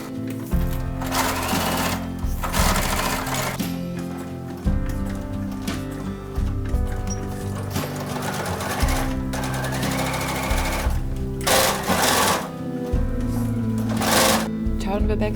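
Sewing machine stitches through thick washed wool fabric for a backpack in loud, close rhythmic runs, stopping and restarting several times with short pauses between bursts.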